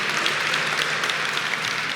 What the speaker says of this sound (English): can we give a round of applause to all the Hidden Figures and to Tiffany Tugger?